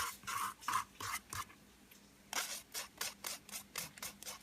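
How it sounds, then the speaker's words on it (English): Dry pancake ingredients, flour and powders, are mixed in a bowl in quick, rhythmic scraping strokes, with a short pause midway before the stirring picks up again. "What you're trying to do is mix your powders in this one bowl."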